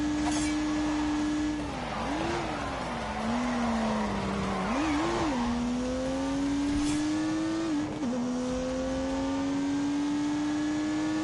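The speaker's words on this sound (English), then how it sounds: "unleashed 365 rampaging horsepowers from the turbocharged 3-litre straight 6" A turbocharged 3-litre straight-six car engine in The Grand Tour Game drones steadily and loudly, rising and dipping in pitch through several gear changes and throttle blips, with brief tyre noise.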